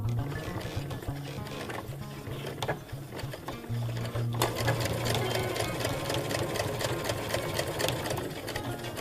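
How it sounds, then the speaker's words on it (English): A sewing machine runs a steady straight stitch around the edge of fabric, a continuous close mechanical whir and rapid needle tapping that keeps going throughout with slight changes in pace. "I will lower the needle and I will let the machine do the sew up, and then I will sew with the straight stitch around the edge"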